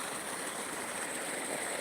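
Water pours over a weir into a broad waterfall, a steady, dense rushing roar that holds constant and fairly loud with no voices.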